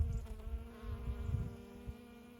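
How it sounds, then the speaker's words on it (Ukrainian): Honeybees foraging on flowering heather in forest clearings, buzzing nearby with a steady droning hum, a few louder passes drifting close and away. "на галявинах, де розцвів, то вже бджолки працюють"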